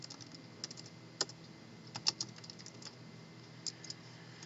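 Someone types on a computer keyboard with sparse, irregular keystroke clicks, quiet and close, with a few sharper taps standing out.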